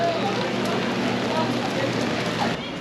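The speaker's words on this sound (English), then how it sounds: "rainy evening in Busan." Rain falling on an evening street in Busan, South Korea, a dense steady patter filling the short stretch evenly, with faint city background beneath.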